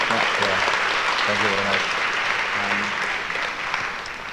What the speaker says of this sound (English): a big round of applause for the Excellency and General